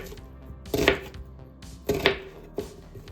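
A knife chops onions into chunks on a cutting board for a slow cooker pork loin, giving three distinct firm thuds spaced about a second apart, close and clear with no talk.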